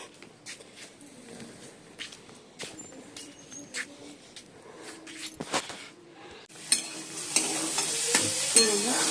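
Potatoes frying in a pan for vegetarian chow mein: scattered clinks and scraping knocks give way to a bright, loud, hissing sizzle that swells over the final couple of seconds.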